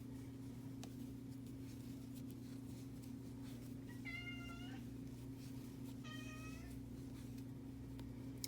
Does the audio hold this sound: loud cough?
no